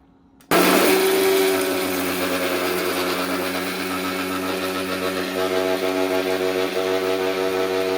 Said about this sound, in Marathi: तर यामध्येच आपल्याला लसूण ॲड करून पुन्हाही बारीक करून घ्यायचा आहे.